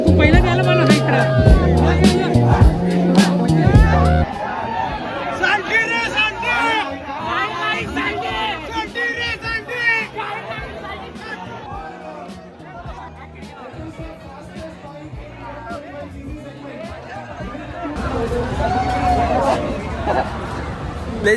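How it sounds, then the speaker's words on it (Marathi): A big crowd packs a hero fan meet event in Pune, with dense chatter and babble all round and voices talking loudly close by throughout. "लईच गर्दी आहे भाई."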